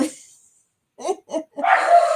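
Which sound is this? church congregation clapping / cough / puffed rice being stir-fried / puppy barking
puppy barking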